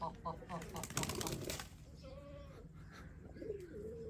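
A pigeon coos near its coop in the summer season, soft throaty calls and a brief flutter of wings amid bird chirps, while someone talks over it.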